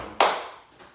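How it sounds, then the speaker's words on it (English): A single crisp hand clap lands as the final beat of a body percussion routine, close and clear with a short decaying room tail, followed by quiet. "We're just going to put a clap on the end now."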